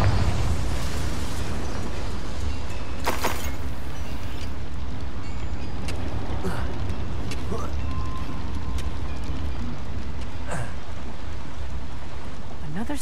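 The Confringo fire spell bursts in Hogwarts Legacy, a loud game blast over dense rumbling noise, with sharp pops and crackles recurring throughout and a voice speaking briefly.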